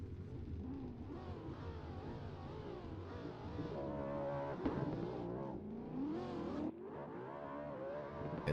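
A drift car accelerates on the track at Castelletto during a Top 32 drift competition event, its engine rising and falling through repeated revs and loud throttle swells, with no voices.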